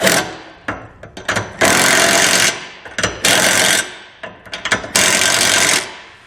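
A power tool driving an 18mm socket to tighten trailer hitch bolts on a 2019 Honda Fit, three loud sustained whirring bursts separated by short clicks and clunks, close by, with no talking.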